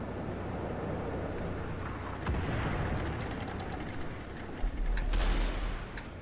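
Artillery fire in World of Tanks on console: low distant booms and rumbling thuds over a windy battlefield wash, with a heavier blast swelling near the end.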